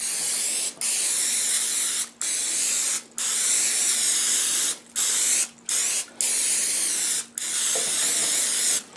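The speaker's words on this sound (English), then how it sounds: "First I'm going to spray it with oil." Repeated bursts of oil spray hitting a stainless steel cooking sheet, close and loud, each lasting about a second with brief gaps, seven or eight sprays in a row.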